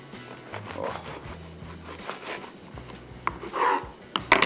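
A serrated bread knife saws slowly through a beef cheeseburger bun, giving soft rasping, crunchy strokes close up with a few sharper scrapes near the end, with no talk.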